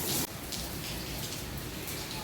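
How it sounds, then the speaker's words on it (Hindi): Heavy rain pours down in strong wind, a dense continuous roar of drops hammering surfaces, loud and close with no voices. "ये देखो ज़रा बारिश का हाल, अल्लाह रहम करे। बहुत तेज़ है हवा के साथ।"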